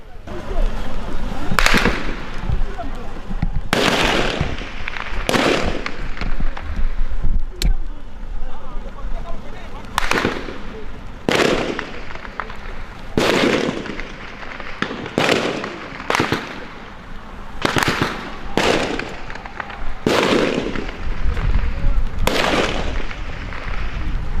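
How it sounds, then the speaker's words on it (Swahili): Heavy weapons and live gunfire in a battle at Munigi on the outskirts of Goma, DR Congo: about a dozen loud, sharp blasts and cracks at irregular intervals over a constant background rumble. "Ni silaha nzito ndizo zimetumiwa katika eneo hili la Munigi pembezoni mwa mji wa Goma"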